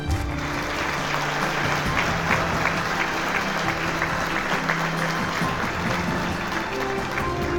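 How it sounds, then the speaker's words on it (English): Audience applause fills a hall at the 2018 Kansas Sports Hall of Fame induction ceremony, steady and sustained throughout, with faint crowd murmur mixed beneath the dense clapping. "give a nice round of applause"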